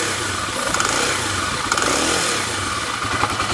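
A 2010 Kawasaki KLX250SF supermoto single-cylinder engine runs steadily nearby with a continuous buzzy drone and slight rhythmic pulsing.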